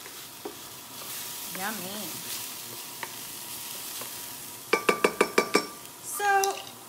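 Onions sizzle in a pan under a quick burst of clinking from utensils against cookware, followed by a sharp scrape; a voice speaks briefly.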